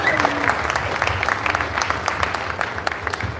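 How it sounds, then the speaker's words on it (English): Sustained applause from a press conference audience greets two boxers before a fight, a dense, steady wash of many hands clapping close by with scattered louder claps throughout. "What about a round of applause for these two?"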